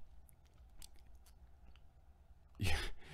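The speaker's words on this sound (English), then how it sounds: "You want to hear some ASMR of chewing?" Someone bites and chews pizza close to the mic, a short burst of crunchy, wet chewing near the end after quiet room noise.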